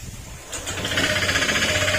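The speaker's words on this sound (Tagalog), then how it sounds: "Okay, yan po yung tunog ng PCX." A Honda PCX160 scooter engine with a damaged crankshaft and cylinder runs with a loud, steady mechanical drone that swells after a brief rise, a fast rattling chatter layered over a low hum.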